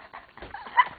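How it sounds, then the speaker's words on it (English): A dog gives short whimpering yips, close by and fairly faint, with a louder cry near the end and no talking over it. "Dog!"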